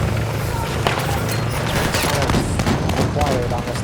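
Dense, continuous gunfire and explosions from the video game Battlefield 6, with rapid overlapping shots in a busy battle, heard under a player's excited talk.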